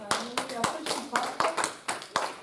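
A church congregation claps hands together in a steady rhythmic beat, sharp close claps repeating several times a second throughout, with voices faintly present underneath.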